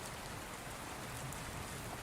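Soft, steady rain falls continuously, a gentle even patter with no voices, the kind of calm downpour heard outside a mansion at night.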